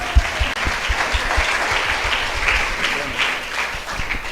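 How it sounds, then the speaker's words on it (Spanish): A church congregation claps together in a sustained burst of applause during a worship service, the dense clapping steady and loud from start to finish with faint voices beneath it. "Dale fuertes palmas al Señor."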